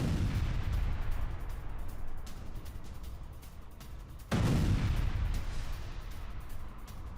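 Heavy bombing strikes on Sanaa by US and British forces, heard as a dull, continuous rumble with a sudden deep boom about two-thirds through, distant and reverberant, with no voices.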